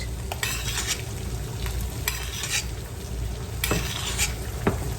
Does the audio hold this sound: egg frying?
yes